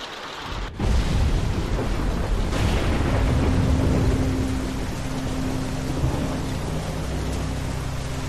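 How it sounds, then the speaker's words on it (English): A loud crack of thunder rolls into a sustained rumble over steady heavy rain, with no voices, in the video game The Walking Dead: A Telltale Games Series. "it's the game thing, it's a lightning storm"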